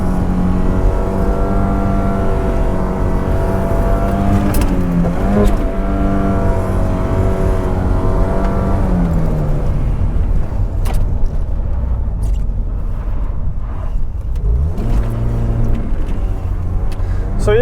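Volvo 740 revving hard while drifting on snow, heard from inside the car: a loud engine rising and falling through repeated revs and shifts, continuous and close throughout.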